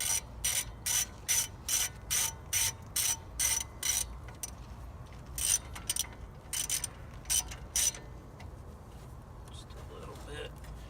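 A ratchet clicks in quick repeated bursts while tightening small wheel hub bearing bolts on a 2005 Dodge Ram 1500, loud and close, with someone talking over the later strokes.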